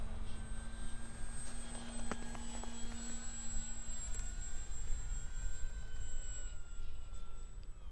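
A TopRcHobby ASW28 RC sport glider comes in to land outdoors, heard as a steady, moderately loud motor and wind whine with faint sustained tones throughout.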